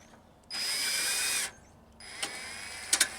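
A power drill backs out headlight trim screws on a Jeep YJ, whirring in one steady, close burst of about a second. A second, quieter spin follows, with a few small clicks and knocks.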